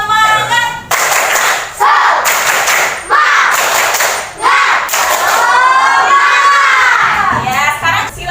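A class of Indonesian schoolchildren shouts an energetic chant in unison, clapping in bursts, loud and close, with a teacher's voice leading.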